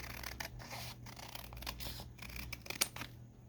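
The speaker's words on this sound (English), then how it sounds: "I'm going to trim this edge again" Scissors trimming the paper edge of a vintage book page pocket, a run of quiet close snips and rustling cuts in an irregular rhythm, with no voices.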